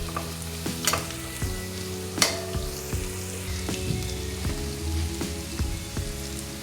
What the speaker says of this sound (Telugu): నెక్స్ట్ కరివేపాకు వేస్తున్నాను.